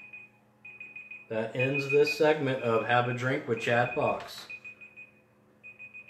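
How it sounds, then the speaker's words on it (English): Electronic alarm beeping in short repeated bursts, loud and clear before and after a stretch of someone talking over it, with the beeps briefly returning at the end. "And that is our alarm"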